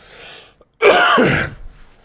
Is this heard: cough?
yes